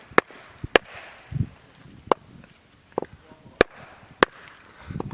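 A Decathlon Solognac Sika 130 knife is batoned with a wooden stick, giving sharp, loud, isolated knocks at an irregular pace, around seven strikes, with softer shuffling and handling noises between them.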